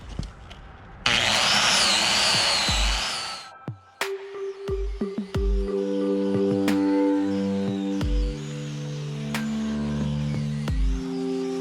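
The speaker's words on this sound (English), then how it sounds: "take the angle grinder to them" An angle grinder works corrosion off a Ford Ranger alloy wheel, opening with a harsh, loud grinding burst, then a spinning whine with scraping contact and clunks, close up.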